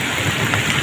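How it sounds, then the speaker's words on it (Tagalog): Rain falls steadily over a flooded fishing spot, a continuous close wash of drops and patter with no pauses. "Medyo humina na yung ulan."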